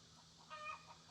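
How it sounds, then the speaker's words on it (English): Backyard chickens give a single brief, faint cluck-like call against quiet outdoor background noise. "But the chickens can get pretty noisy, especially when you're trying to film."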